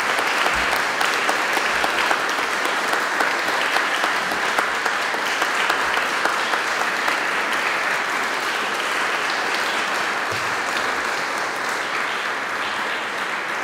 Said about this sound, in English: Let's have a round of applause for the candidates and for the people who organized the event.